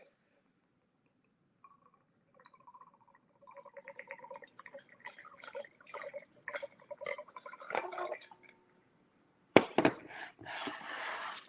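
Cabernet Franc wine from a 2012 or 2014 Hyde Vineyard bottle pours into a glass at close range, a quiet gurgling trickle that builds and splashes, then breaks off and resumes as a brighter, louder pour.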